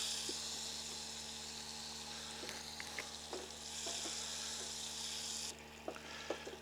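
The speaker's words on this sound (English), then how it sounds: "1/2 stick of butter. All right, there we go, half stick. We're gonna melt it down." Half a stick of butter melting in a pan gives a steady, soft sizzle with faint crackles and light pops throughout, fairly quiet and unbroken.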